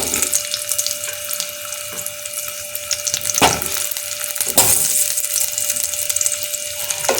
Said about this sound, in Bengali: আলুগুলো আমি তেলের মধ্যে দিয়ে এবার একটু ভেজে নেব।